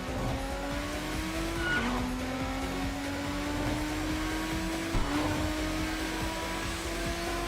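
A V10 engine in an Integra drones steadily while racing in the video game Tokyo Xtreme Racer, a continuous rising engine whine that drops with two gear shifts, with a tire squeal.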